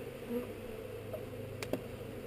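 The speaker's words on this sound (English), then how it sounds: "I've had bees like hover right here by the lens." Bees buzz faintly close by the camera lens during a honey harvest, a thin, wavering hum, joined by a couple of sharp clicks near the end.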